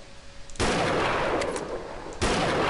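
Two heavy gunshots in the hunting video game Treibjagd 3D, each a loud, close blast followed by a long rumbling tail, spaced well apart.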